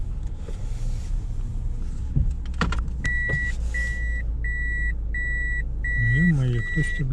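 A car pulls into a space in a snowy clinic parking lot in Mirny, Yakutia, with steady engine rumble, a series of regular electronic parking-sensor beeps and a whine of movement near the end.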